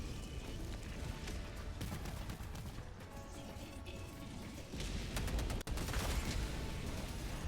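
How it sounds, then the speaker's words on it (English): An orbital barrage pounds the battlefield in Helldivers 2 with a dense, continuous roar of overlapping explosions and crashing blasts, loud and unbroken throughout, thickening into heavier impacts toward the end. "Requesting order. Firing orbital barrage, clear the area."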